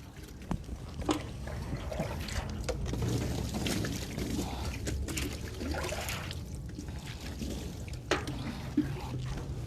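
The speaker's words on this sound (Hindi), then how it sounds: "अब हम दाएं करवट से इसी तरह से इसका पानी डालेंगे इसके ऊपर" Water is poured over a body during a ritual washing of the dead. It makes a continuous splashing trickle with a few sharper drips and splashes, close by and fairly soft, with no talk.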